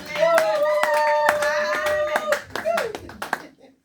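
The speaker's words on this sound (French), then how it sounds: "Ah, acclamons pour le Seigneur." A church congregation claps and cheers, praising the Lord during a sermon: a dense burst of hand clapping with a sustained shouted or sung tone over it, fading out over about four seconds.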